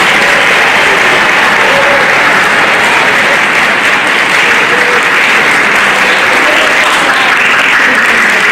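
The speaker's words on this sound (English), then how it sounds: "Give yourselves a quick clap." Concert audience applauding a middle school orchestra on stage, a dense, steady wash of clapping that stays loud and even from start to finish with no talk over it.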